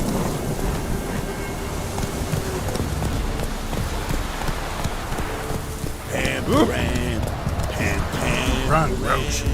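Roach, a horse in The Witcher 3, gallops with rhythmic hoof clops through rain and wind, while voices talk over it and hoofbeats grow busier toward the end.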